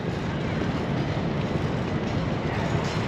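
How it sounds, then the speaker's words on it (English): Tokyo train station ambience: a constant low rumble of trains and machinery fills the space, steady and fairly loud throughout, with a faint wash of background noise and no distinct voices. "Tokyo train station."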